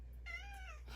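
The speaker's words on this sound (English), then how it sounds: "so he's going to sit just out of range and meow and judge me" A pet cat gives a single short, clear meow close by, a brief rising-then-falling cry over a low steady hum.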